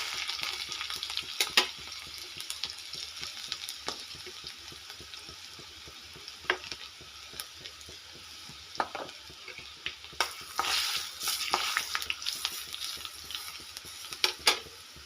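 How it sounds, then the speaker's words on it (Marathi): Cumin seeds and crushed garlic hit hot oil already seasoned with mustard seeds, giving a soft, steady sizzle with scattered sharp crackles and pops, strongest toward the end. "परत थोडेसे जिरे टाकते इथे लसूण आपण ठेचून घेतलेला आहे थोडासा ते पण टाकतो मस्त"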